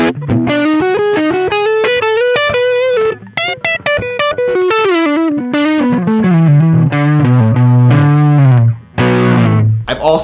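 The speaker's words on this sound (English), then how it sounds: "I've used it for that double tracking sound and like that really quick tape delay for like that country twang blues licks" Electric guitar through a quick tape delay pedal set for double tracking, playing twangy country-blues licks with bends and doubled slapback repeats, loud and close, no talking.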